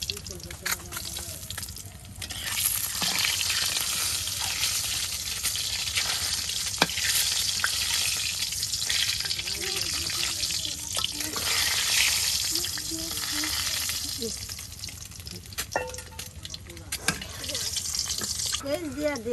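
Eggs fry in oil in a pan on a clay stove, with a steady loud sizzle and occasional sharp clinks and scrapes, while voices talk intermittently over the cooking.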